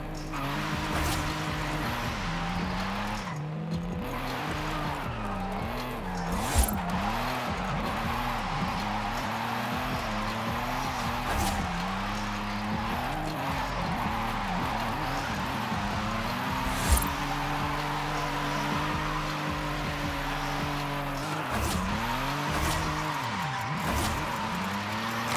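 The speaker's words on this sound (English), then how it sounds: "let's go ahead now and jump straight onto the drifting" A car drifts in Forza Horizon 5, its engine droning and revving steadily while tires squeal in sustained, shifting howls throughout, with occasional louder thumps and no voice.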